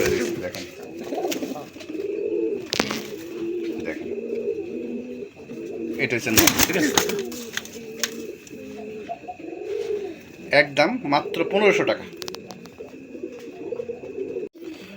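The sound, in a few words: pigeons cooing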